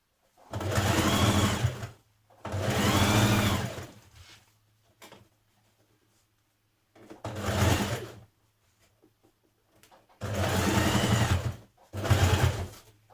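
A domestic sewing machine hems a skirt in several loud, close stitching bursts of a second or two each, with a short blip midway and quiet pauses between runs, with no talking.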